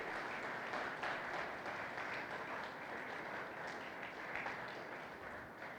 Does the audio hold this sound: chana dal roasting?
no